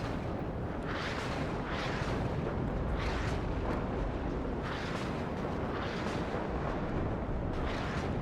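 A continuous roaring rumble of explosions in the video game Warno, a base blowing up, with repeated heavier bursts rising over dense, sustained blast noise.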